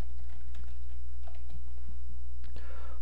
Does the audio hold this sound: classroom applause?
no